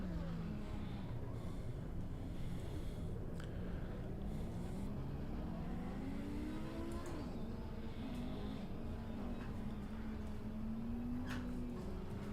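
A race car engine, an Audi in the Assetto Corsa Competizione game, drones at a steady pitch that rises and falls gently with the throttle, faint and continuous with no talk.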